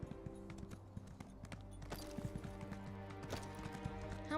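Rhythmic clip-clop of a horse's hooves striking rock in the fantasy game Elder Scrolls Online, steady irregular footfalls over a low sustained musical drone, fairly faint and with no talking.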